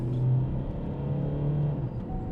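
A Vauxhall Insignia CDTI diesel with an engine underboost fault pulls away, its low steady engine drone rising slightly in pitch, heard close from inside the car with no talk.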